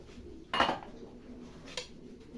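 A ladle scraping and knocking against a pot of cooked rice makes two short metallic clinks, the first louder, in an otherwise quiet room.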